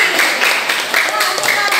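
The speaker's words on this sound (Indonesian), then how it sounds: "Bagus, tepuk tangan untuk Siti." Students clap in a classroom for a classmate. The applause is brief and dense, with voices mixed in throughout.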